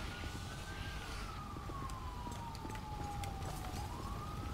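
A fire engine siren in GTA 5 wails faintly in the distance during a night shift in Sandy Shores, its pitch rising and falling slowly over a low rumbling background with scattered small clicks.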